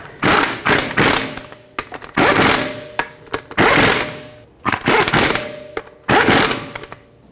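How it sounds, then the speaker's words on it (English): A torque wrench tightens the wheel lug bolts on a Jeep Renegade in a cross pattern, giving repeated bursts of ratcheting clicks and thuds, each pull a short loud cluster separated by brief pauses, close up. "in a cross pattern, torque them to 89 foot-pounds"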